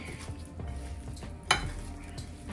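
Lamb rack being mixed by hand with yogurt, spices and a mulling-spice tea bag, giving soft wet squelching and stirring sounds with one sharper clink midway, close and steady, no talking.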